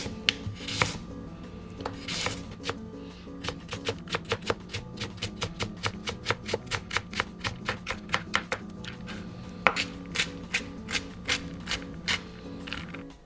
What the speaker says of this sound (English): Finely chop the carrot as well.